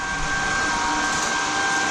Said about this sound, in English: Okay, now we're just going to vacuum